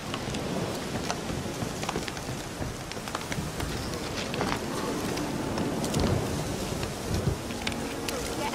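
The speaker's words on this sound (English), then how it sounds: "The storm, damn it." Steady rain with rolling thunder during a stormy outdoor scene in The Witcher 3: Hearts of Stone, a dense continuous wash of downpour with low rumbles swelling around the middle, loud and unbroken throughout.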